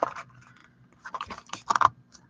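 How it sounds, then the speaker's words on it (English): A tight bag zipper being tugged in a few short, scratchy bursts, close by and fairly quiet, with the loudest pulls near the end. "Definitely the zipper works."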